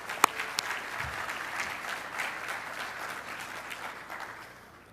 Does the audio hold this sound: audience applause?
yes